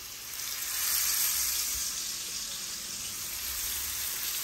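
Chicken legs frying in hot oil, a steady close hiss and sizzle that swells briefly and then holds evenly.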